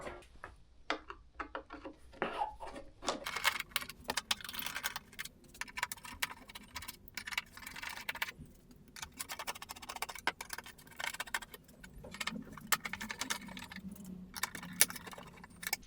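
Screws are backed out of the rear fairing on a 1999 Suzuki GSXR 600 sport bike, a run of small metallic clicks, ticks and light rattles close by, quiet and intermittent, with no voices.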